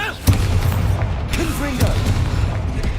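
A booming Confringo blast spell explosion rings out in the video game Hogwarts Legacy, a low heavy thump followed by rumbling, with a voice speaking over it.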